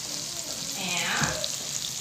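Omelette eggs frying in a pan on a stove with the heat just turned off, giving a steady soft sizzle with light stirring scrapes and a brief voice heard over it.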